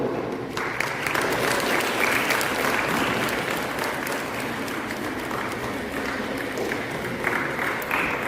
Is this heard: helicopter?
no